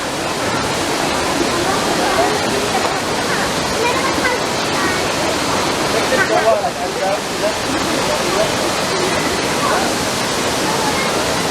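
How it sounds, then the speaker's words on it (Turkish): Düden Waterfall in Kepez, Antalya pours down at its plunge point, a loud, steady roar of falling water that fills the whole clip without a break. "şelalenin döküm yeri burası"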